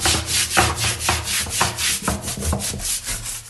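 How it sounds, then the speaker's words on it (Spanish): Steady back-and-forth scrubbing of a bathroom's edges with a brush and homemade multipurpose degreaser, rhythmic rubbing strokes close up and fairly loud, with no speech. "vamos a seguir tallando"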